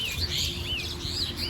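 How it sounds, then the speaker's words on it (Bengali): Many birds call overhead at a bird sanctuary in cold weather, a string of high chirps and tweets at moderate distance over a low steady background rumble, with no talking. "প্রচুর পাখি ডাকছে ওপরে"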